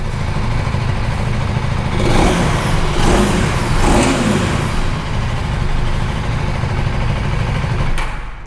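A 2025 KTM Duke 390 with an underbelly exhaust is revved up from idle in several throttle blips around the middle, giving a loud, close engine note with a faint whistling edge before it settles back.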